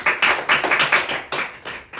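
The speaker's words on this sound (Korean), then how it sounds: "박수로 크게 격려해 주시기 바랍니다" Clapping at a church reading session, a small group of people applauding in quick uneven bursts that are close and fairly loud, with no voices.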